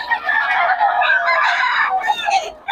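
A rooster crows loudly and repeatedly in a long, strained call, with voices murmuring in the background.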